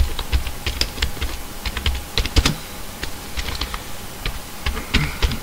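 Rapid, irregular clicking of keys on a computer keyboard, close and clear, with bursts of keystrokes and brief pauses throughout.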